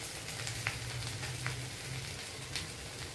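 Sliced okra sautés in a hot oiled pan with turmeric, giving a steady, dense sizzle with occasional soft stirring scrapes, close and continuous with no talking.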